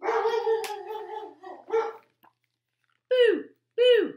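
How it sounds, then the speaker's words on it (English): A voice shouts twice, then after a pause a dog gives two loud, close barks, one after the other. "That's my dog"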